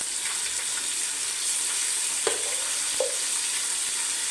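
Chicken sizzles steadily in a pan while cooking for chicken dum biryani, a continuous close frying hiss with a couple of brief clinks or stirring taps partway through.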